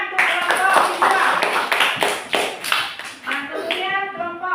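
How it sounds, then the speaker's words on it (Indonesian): Classroom clapping in an inclusive elementary lesson, a group of children applauding their classmates: a burst of sharp, uneven claps from close by, mixed with children's voices talking over them and tapering off toward the end. "Tepuk tangan untuk kelompok visual."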